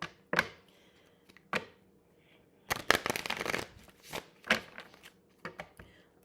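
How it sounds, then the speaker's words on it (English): A tarot card deck being shuffled in quick, crisp riffling bursts with short pauses between them, close and fairly quiet, with no talking. "I'm going to pull like 3 more cards from this tarot deck"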